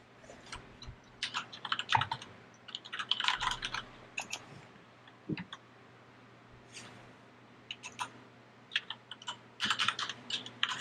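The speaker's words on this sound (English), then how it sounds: "you have a nice new clicky keyboard too?" Typing on a Kinesis Freestyle Pro keyboard with Cherry MX Brown switches, quiet clacking keystrokes arriving in irregular bursts and flurries with short pauses between, close and alone.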